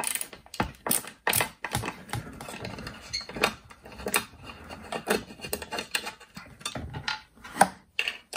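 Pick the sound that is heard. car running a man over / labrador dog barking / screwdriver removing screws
screwdriver removing screws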